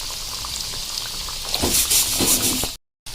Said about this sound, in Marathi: आता आपण जे समोसे बनवून घेतले होते चिकनचे ते सुद्धा आता मी तेलामध्ये तळून घेतले